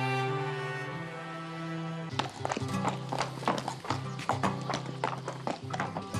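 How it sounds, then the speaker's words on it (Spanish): Horse hooves clip-clop in a quick, uneven rhythm on a bull-breeding ranch as a rider mounts, close and clear after a sustained musical passage with no talk. "Enrique Ponce se dispone a montar a su caballo Ovaciones"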